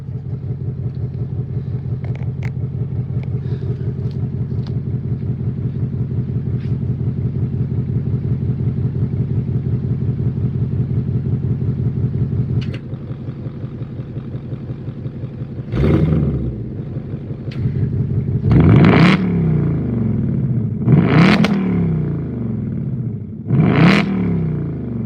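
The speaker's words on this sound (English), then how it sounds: "we'll put it in loud, loud, loud exhaust so y'all can hear it" A Ford Mustang with a loud exhaust idles with a steady low rumble, then revs sharply several times, each rev rising and falling loudly close by.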